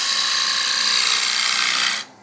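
A woodturning gouge cuts into a spinning bowl blank on a lathe, giving a steady, bright hissing shear that holds evenly for two seconds before the cut stops abruptly, close and loud with no talking.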